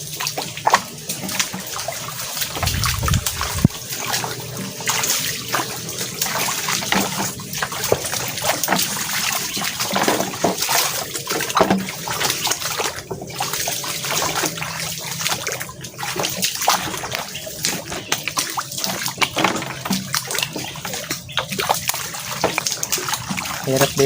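A shallow stream flows and splashes continuously nearby, a steady broadband wash of water with small sloshes, heard outdoors while shrimp catching.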